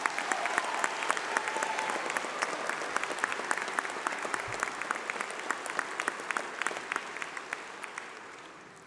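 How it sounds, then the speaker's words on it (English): A large graduation ceremony audience at UCLan applauding, sustained, dense clapping from a big crowd that holds steady for several seconds and slowly tapers off. "give yourselves a huge round of applause"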